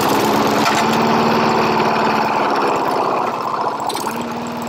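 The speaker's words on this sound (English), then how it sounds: "We'll run it for a while and get the oil burned out of the exhaust system and everything" A push lawn mower that has just been repaired runs continuously, its small engine chugging loudly and steadily with a rough rhythmic pulse, up close and alone, the level easing slightly near the end.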